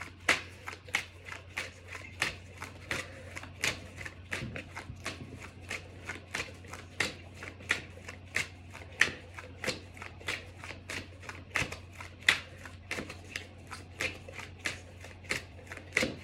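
Tarot cards being riffled and shuffled by hand, a steady run of crisp, close flicking bursts repeating about twice per second over a low constant hum.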